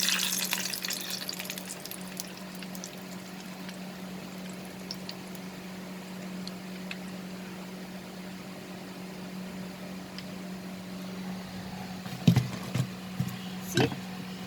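Brinjal fritters frying in hot oil, a steady low sizzle running throughout with a few sharper crackles and spits near the end, while a person talks over it.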